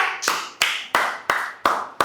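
A few hands clap in a slow, deliberate rhythm, six distinct claps about a third of a second apart, close and clear with no talk over them, as a small audience responds to a call to applaud at a health myths-and-facts Q&A.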